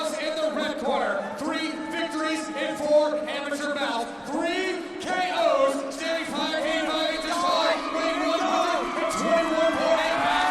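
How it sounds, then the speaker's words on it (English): A crowd at a women's fight bout roars and cheers in a sustained, swelling wash, with whoops rising now and then, heard beneath commentators talking continuously. "Oh, the crowd loving it."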